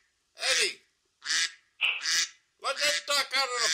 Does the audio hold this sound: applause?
no